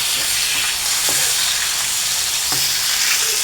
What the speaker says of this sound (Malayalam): നന്നായി ചൂടായി മീനൊക്കെ അതിൽ ഇട്ട് കൊടുത്തിട്ടുണ്ട് കേട്ടോ